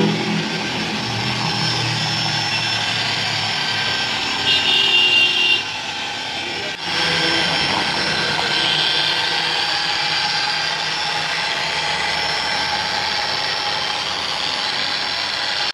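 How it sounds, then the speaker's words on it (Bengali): Polishing machine working on a Yamaha R15 V4 motorbike during paint correction, a steady loud motor whine and whirr that dips briefly midway and then resumes. "এই যে দাদা মেশিন নিয়ে চলে এসেছে, তো এবার হবে পলিশ"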